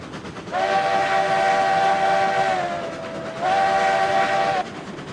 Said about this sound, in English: Hey, John, I'm going to hit the whistle again.